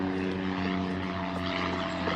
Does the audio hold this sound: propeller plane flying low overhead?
yes